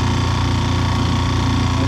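Faulty outboard motor on an Azimut boat running continuously with a steady, loud droning hum and no pauses.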